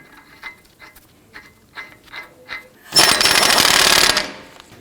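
A burst of power-tool ratcheting, like an impact wrench, drives the axle nut onto the front wheel hub of a 1997-2006 Jeep Wrangler; faint clicks come first, then a loud, steady rattling run of just over a second.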